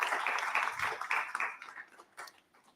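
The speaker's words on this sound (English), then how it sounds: "let's give our panelists another well-deserved round of applause" An audience at a precision medicine conference applauds the panelists, a burst of many hands clapping together that fades into scattered claps and dies away.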